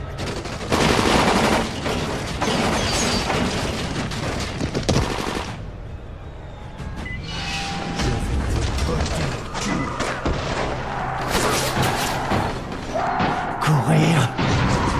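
Gunfire in a French-dubbed Dying Light film scene, with loud, dense bursts of automatic fire that cut off briefly and then return amid booms and mechanical clatter, along with shouting voices.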